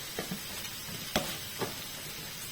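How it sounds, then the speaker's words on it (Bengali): Mixed vegetables being stirred with spices in a frying pan for paratha filling: a soft continuous sizzle broken by a few sharp spatula scrapes and taps, close up, no voices. "এই যে মশলাগুলো দিয়ে আমি আবার এগুলোকে ভালোভাবে মিক্স করে নেব"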